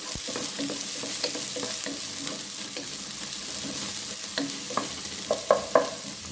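Onions sautéing in a hot pan for a rice lunch-box dish, giving a steady close sizzle broken by scraping stirs and a few sharper clinks of the spoon near the end.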